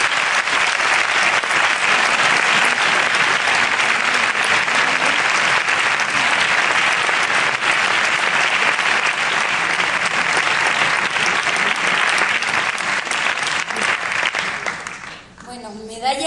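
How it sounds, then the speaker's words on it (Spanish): An audience at a Spanish film-critics awards ceremony gives sustained, dense applause that stays loud for about fourteen seconds and then fades. A voice speaks briefly at the very end. "Desde aquí, nuestro más cariñoso recuerdo y un fuerte aplauso"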